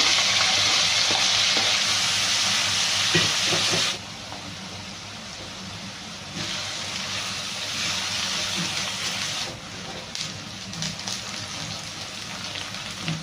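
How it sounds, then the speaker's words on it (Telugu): Thinly sliced medium onions sizzle steadily in hot oil in a pan for a chicken fry, a loud, dense crackle close by that drops slightly at moments as the pan is stirred. "ఆయిల్ హీట్ ఎక్కింది ఆనియన్స్ వేసుకున్నాం"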